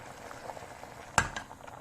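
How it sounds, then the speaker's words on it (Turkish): Pumpkin simmering in a pot in its own juice: soft, faint bubbling and gentle liquid pops, with one sharper clink partway through. "Kaynamaya başladı"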